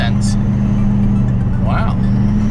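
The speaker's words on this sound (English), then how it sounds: "There goes a Bentley Continental." A Bentley Continental drives past with a steady engine and road drone that stays loud throughout, while a voice talks faintly over it.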